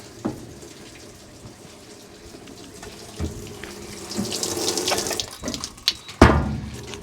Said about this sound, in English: Let's turn some water on.